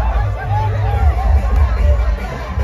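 Dense hubbub of a huge festival crowd packed into the streets of Aurangabad for Shiv Jayanti, a continuous loud roar of many voices merging into babble with low rumble underneath, steady throughout.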